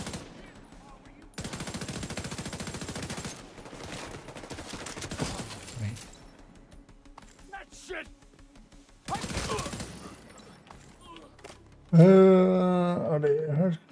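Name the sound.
gunfire in a video game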